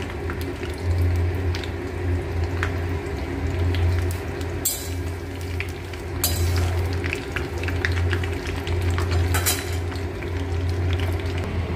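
Homemade hair oil poured through a strainer, a steady liquid trickle and gurgle running throughout with occasional faint clinks of a container, close and continuous with no talking.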